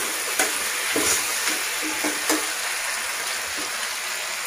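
Cut tomato pieces hit a hot pan for drumstick sambar and fry with a steady, loud crackling sizzle, punctuated by a few sharper pops and spatters while stirring.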